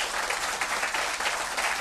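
Loud, dense applause from an audience at an organised skills event, continuous clapping throughout the short stretch with no voices over it.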